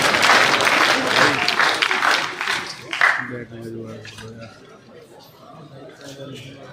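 Crowd applause welcoming a speaker at an Ambedkar Jayanti social justice conference in a hall, loud clapping that fades after about three seconds into chatter and light laughter, then a voice begins.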